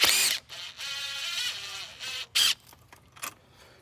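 Ratcheting clicks and metallic tool noise from loosening the intercooler piping clamps with an 11 mm wrench on a 6.4L Powerstroke diesel, close up, with a few short bursts and pauses.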